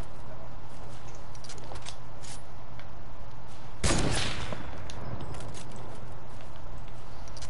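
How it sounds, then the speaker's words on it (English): Gunfire in the video game Fortnite: one loud burst of shots near the middle against a steady hum of game audio, with a few fainter sharp cracks scattered before and after. "Getting shot again."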